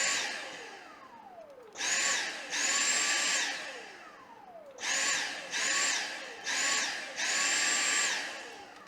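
Motor of a Dyson Animal vacuum cleaner whining under power in repeated bursts, each rising in pitch then cutting out, with descending spin-down tones between; loud and close, about five surges, no talking.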